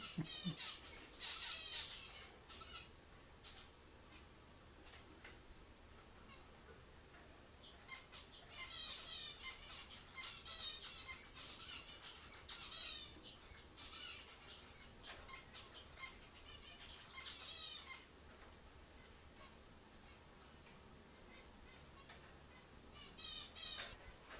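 Birds chirp and trill outdoors in repeated bursts, moderately distant, with soft insect buzzing and quiet background ambience between calls.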